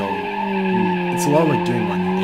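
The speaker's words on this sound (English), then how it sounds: "If I let off the front brakes, you can start a drift" Car tires squealing and skidding while drifting in BeamNG, a loud wavering screech over a steady engine drone, rising and bending in pitch as the slide develops.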